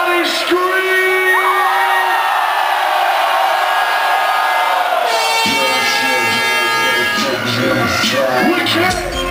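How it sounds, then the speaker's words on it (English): A large concert crowd screams and whoops at a live show in Tartu, a loud sustained roar that swells after a pause, with a performer's amplified voice shouting over it. "Everybody, scream!"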